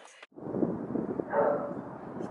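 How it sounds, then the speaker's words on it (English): Wind buffets a handheld microphone outdoors on a chilly, blustery day, producing a sustained low roar that swells briefly midway and runs almost unbroken. "It's getting really windy and chilly."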